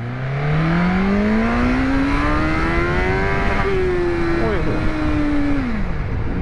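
An MV Agusta 1090 Brutale RR naked motorcycle accelerates hard in first gear, its engine note climbing steadily in a loud, continuous rising whine before a brief dip near the end.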